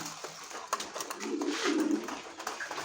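Pigeons coo in low, soft, rolling calls over a steady hissy background, with a few brief clicks and rustles nearby.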